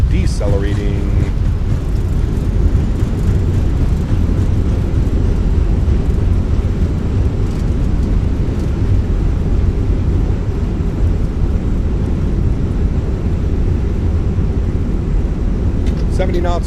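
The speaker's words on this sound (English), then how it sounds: "Nose down gently, reversers are out. Decelerating." A simulated Fenix A321 airliner rolls out after landing with thrust reversers deployed, a loud, continuous deep roar of engine and rushing air that fills the whole stretch with little change.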